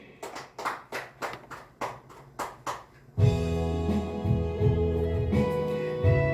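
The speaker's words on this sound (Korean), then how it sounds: "우리 하나님께 영광의 박수를 올리겠습니다." Church congregation clapping in a steady rhythm during a worship service, about eight sharp claps, then music with held organ-like tones takes over.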